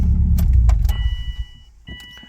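A 2008 Subaru Forester XT Sports with a manual gearbox is switched off, its low engine rumble dying away within about a second, followed by faint clicks and a brief electronic chime.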